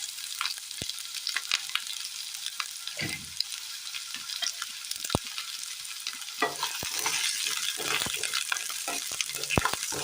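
Chopped onions frying in a little oil in a pan, a dense continuous hiss with frequent clacking stirs and scrapes, close up and steady throughout without any voices.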